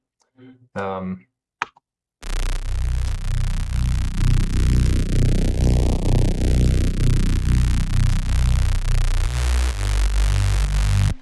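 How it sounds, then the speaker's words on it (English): A brief spoken phrase, then a buzzy, dense synthesizer tone with a detuned super saw character plays continuously in Ableton, loud and rich, with a sweeping filter. "so that's the sound of the super saw"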